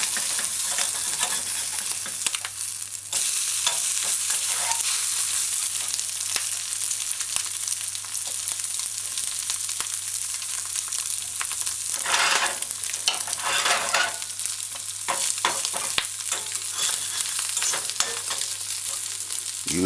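An egg frying and being stirred in a pot on a stovetop while making a grilled ham, egg and cheese sandwich, with steady close sizzling broken by scraping stirs and a few louder bursts.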